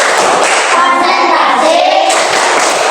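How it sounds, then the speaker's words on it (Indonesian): A primary school class doing the rhythmic concentration clap in a science lesson, children clapping together in patterned beats while chanting loudly in unison, filling the room close and dense. "Nah, coba kita tepuk konsentrasi lagi ya."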